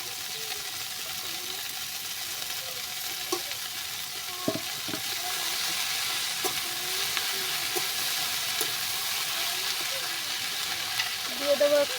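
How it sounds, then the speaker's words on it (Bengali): Chopped greens hit a pan of fried onions and sizzle in a steady, close hiss, with occasional scrapes and knocks of stirring throughout. "এবার আমি কেটে রাখা শাকগুলো দিয়ে দেবো।"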